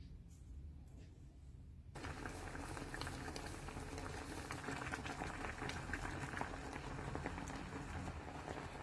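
Orange and sugar syrup bubbles hard in a pot on the stove: a dense, steady crackle of boiling starts abruptly after a quiet moment and then runs continuously, close and fairly loud, with no talk.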